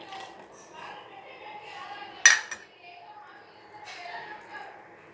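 Vermicelli for semiya payasam stirred in a pan, with soft scraping and one sharp metallic clank of the spoon against the pan, under a woman's speech.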